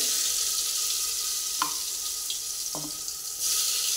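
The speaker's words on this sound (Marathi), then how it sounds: "1 चमचावर वाटण टाकलंय मी तेलामध्ये" Masala paste fries in two spoons of hot oil inside a large pressure cooker, with a steady bright hiss and a couple of sharp clinks of a spoon against the metal, heard up close.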